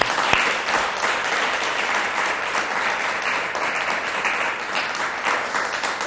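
Audience at an event celebrating female artists applauding, sustained loud clapping from a large crowd that stays constant throughout with no talk on top.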